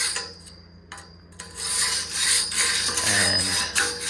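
Dry scrubbing between the heat exchanger tubes of a 12-year-old Weil McLain boiler: a close, rasping brush-on-metal scrape, faint and broken at first, then a steady run of loud back-and-forth strokes.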